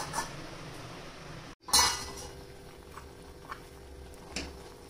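A metal lid clanks down onto a cooking pot of long beans on the stove, one sharp clink after a brief hush, followed by quiet simmering and faint kitchen ticks.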